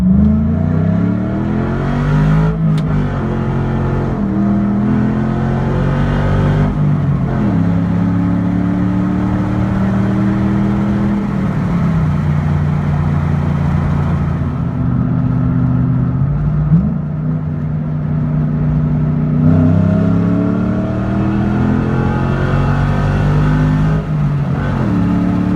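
A 1998 Ford SVT Cobra's engine runs loud and close while accelerating on a drive, its tone climbing through rising revs, easing back and pulling up again in several sweeps with no talk.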